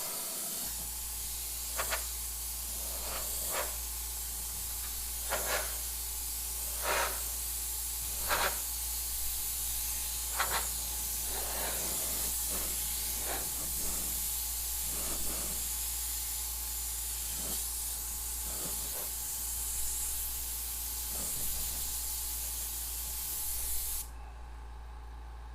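Airbrush spraying root beer colored paint on lowrider-style art, a continuous close hiss with short, sharper bursts as the trigger is worked, ending in a softer hiss near the end.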